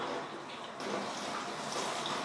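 Aquarium water poured out while acclimating a goonch catfish, heard as a steady close rush of trickling water that grows a little stronger partway through, with no voices.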